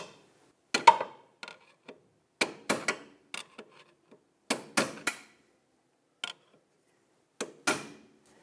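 A hammer and pry bar tap open a bent washer on the inner tie rod of a 2008-2012 Honda Accord, giving sharp metallic clinks in irregular pairs and singles with quiet gaps between.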